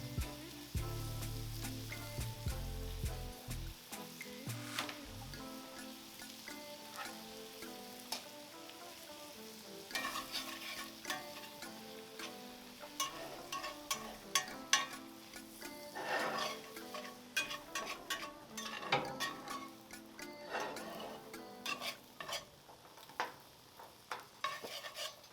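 Flour cooking in butter in a pan sizzles softly while a utensil stirs and scrapes it, with irregular clinks and scrapes against the pan and a low hiss running throughout.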